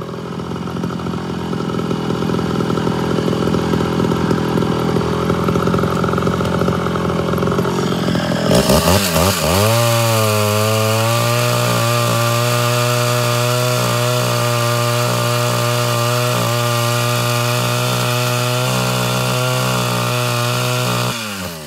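Ported Homelite Super XL-Auto chainsaw cutting through wood, loud and close: after a steady roar the engine revs up sharply and holds a high, sustained whine under load, with no talking.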